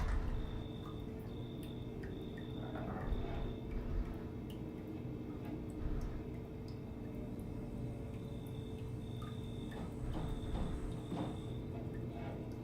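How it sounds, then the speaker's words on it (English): Ambient dripping water in a VRChat world, sparse irregular drips and ticks over a constant low hum, fairly faint and alone. "Get to enjoy the drips."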